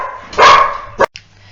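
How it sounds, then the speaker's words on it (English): A dog barks indoors: one loud, harsh burst followed by a shorter sharp bark, close by, with a low steady hum underneath. "my dog was making noise."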